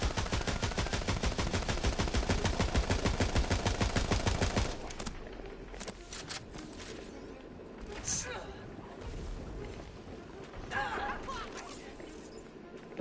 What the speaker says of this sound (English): Check out this assault rifle I bought.